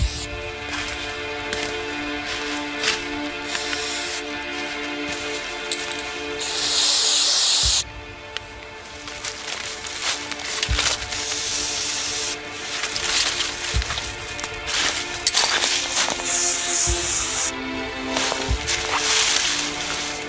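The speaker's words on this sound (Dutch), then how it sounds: "En daar geeft hij met een ander kleurtje spuitbus, geeft hij even een stip, een witte stip" Spray paint can used to mark a white dot on tree trunks in a forest, several short sharp hissing bursts, the longest about a second, close and loud over rustling and rubbing noises.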